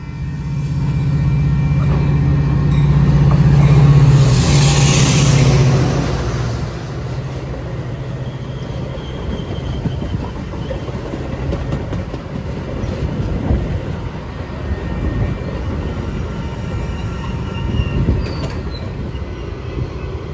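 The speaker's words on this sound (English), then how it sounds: "Our second and last train of Crystal Lake on Sunday would be UP Northwest train 723 with Metra" Union Pacific Northwest Metra train 723, led by locomotive 137, roars past at Crystal Lake with a loud, steady rumble and rattling wheels. A brief squeal rises early on, then the noise settles into a sustained rolling clatter.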